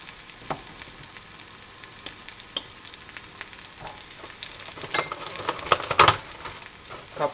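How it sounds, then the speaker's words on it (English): Burger patties sizzle in a pan with a soft, crackling fry that swells louder toward the end, dotted with a few light clinks of a utensil against the pan. "the burger is cooking"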